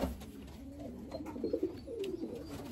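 Racing pigeons coo softly in a loft, low rolling calls repeating close by over faint background noise.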